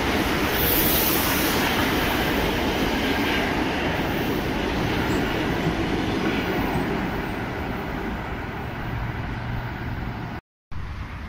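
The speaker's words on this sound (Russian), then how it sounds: "Электричка ЭДМ-4М, платформа Тульская, на Домодедово, с Павелецкого вокзала." An EDM-4M electric commuter train rumbles past Tulskaya platform in Moscow close by, a loud continuous roar of wheels and carriages that holds steady before easing slightly, with a brief dropout near the end.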